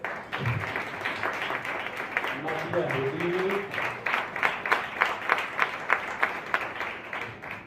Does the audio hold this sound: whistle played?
no